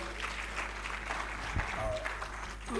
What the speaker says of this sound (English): Please, can the Minister get a clap as he comes back to the podium?